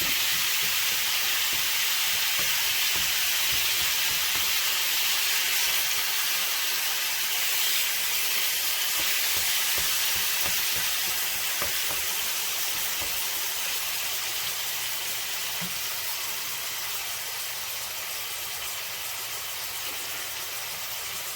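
Meat browning in a hot pan for stuffed Doritos, giving a steady broadband sizzle and hiss that holds close and constant throughout with no talking.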